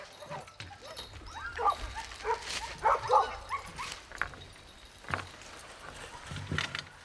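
Sled dogs bark and yip in scattered bursts, some near and some farther off, mixed with whimpers amid a busy outdoor kennel ambience and faint talking.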